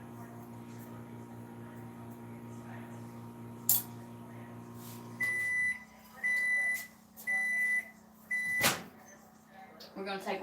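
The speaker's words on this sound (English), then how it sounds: "I'm just going to pop it back in the microwave." A steady low hum runs for several seconds, then stops, followed by a series of four evenly spaced electronic beeps.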